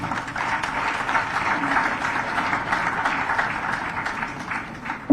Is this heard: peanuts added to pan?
no